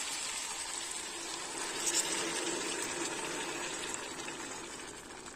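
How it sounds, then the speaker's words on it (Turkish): Water poured into a cooking pot for an orange-flavoured dish, a continuous close gushing pour that swells slightly midway and then tapers, with no talk. "Birazcık daha ekleyeceğim su."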